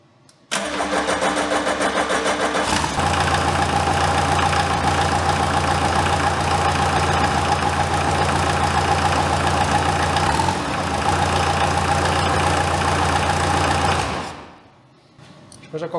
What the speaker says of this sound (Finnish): Käänsin nyt tuon tyhjäkäynnin ja speedin nyt ihan niin kuin pienimmillään.